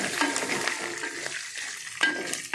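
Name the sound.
tempering of chana dal, urad dal, cumin, mustard frying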